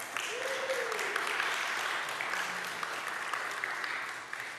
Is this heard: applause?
yes